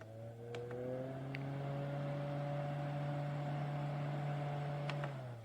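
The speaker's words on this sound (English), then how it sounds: "You can tell at the lowest setting it's pretty quiet, but it still has a very, very good airflow." DUKUSEEK rechargeable solar camping fan running with a steady whirring motor hum, close and moderately loud, holding one constant tone until it steps down near the end, with a few faint clicks.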